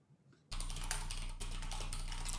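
Fast typing on a computer keyboard starts abruptly after a brief quiet moment and continues as a loud, close, dense clatter of keystrokes, with no talking.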